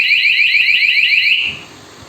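A touch-triggered motorcycle anti-theft alarm blares a close, loud, warbling electronic siren of quick repeated sweeps for over a second, then cuts off abruptly, leaving quiet background noise.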